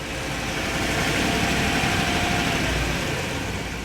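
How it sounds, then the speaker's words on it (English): Steady diesel school bus engine rumble heard from inside the cabin, a continuous broadband drone with no gaps or talk for about four seconds. "Here's what it sounds like inside a diesel bus."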